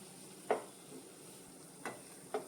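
A spoon scrapes through semolina cooking in milk in a pan for shira prasad, three separate soft strokes with a quiet simmer between them.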